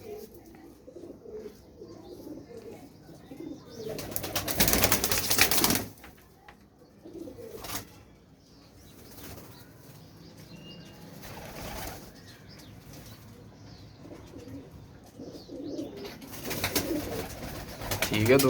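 Pet pigeon cooing softly and intermittently nearby, with occasional wing flaps and bursts of broadband noise from handling, while people talk over it.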